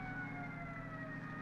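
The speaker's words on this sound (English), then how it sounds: "Oh, the siren? Why, an ambulance, I guess." A wailing ambulance siren, steady and somewhat distant, droning continuously beneath low engine rumble.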